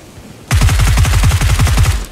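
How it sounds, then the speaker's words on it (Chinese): Automatic gunfire in the PUBG video game, a single fast burst of about fifteen rapid shots lasting under two seconds, loud and close with no talk. "刚刚这边不是有枪声吗？"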